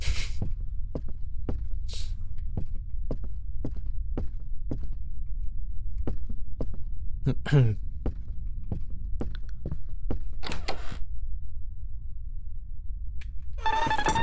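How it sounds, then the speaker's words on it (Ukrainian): Footsteps in the horror game Nocturnal Visit, a steady run of soft thuds about every half second over a low throbbing hum, with a few brief creaks and clicks in between. "Тепер хтось ходить."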